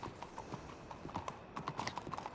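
Horse hooves clip-clopping in a video game, a faint, steady run of hoof steps growing denser toward the end, heard alone without talk.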